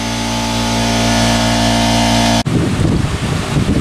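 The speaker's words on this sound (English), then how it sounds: "that was just the compressor kicking in" An air compressor in a mower repair shop runs with a steady mechanical drone and harmonic hum, then abruptly shifts to a rougher, noisier clatter as it kicks in, loud and close with no talk.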